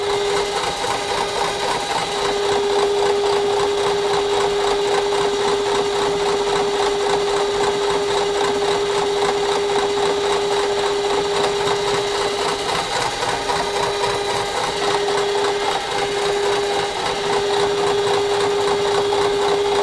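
Metal milling machine making a conventional cut while building a Wright roller kit, a steady whirring hum with a sharp constant tonal whine and faint rhythmic chatter, continuous and close for the whole stretch.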